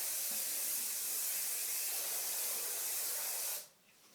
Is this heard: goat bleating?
no